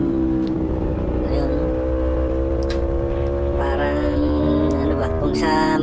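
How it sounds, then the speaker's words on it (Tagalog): A high-revving Aprilia Tuono V4 1100 motorcycle engine drones steadily at high speed throughout, its pitch climbing and holding, with a voice talking over it. "ang ganda ng tunog ng motor na to"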